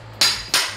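Two crisp metallic strikes ring out close by as a hammer hits a flat chisel set on a nail to pop it up from a floor during carpeted-room floor preparation.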